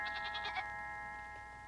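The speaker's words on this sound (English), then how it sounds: "A goat." A goat gives a quick run of faint, wavering bleats near the start, over a steady electronic hum and quiet background.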